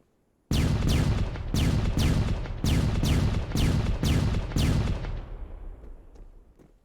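Nine-bang flashbang stun grenades go off during breach-and-clear troop training: a rapid series of about nine loud, sharp blasts in quick succession, each ringing out, followed by a fading echo.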